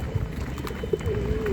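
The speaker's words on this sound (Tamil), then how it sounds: "இந்த காட்டுப்புறா நம்ம கேஸில் வந்து தங்குறாங்க" Wild pigeons sheltering in a home cage give soft, low cooing calls close by, with a brief rising coo among faint chirps and background rustle.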